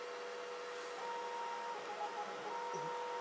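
A 3D printer runs with a nozzle cleaning device operating, giving a faint steady hiss and hum with thin tonal whines from the motors coming and going.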